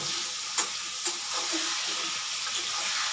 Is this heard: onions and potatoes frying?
yes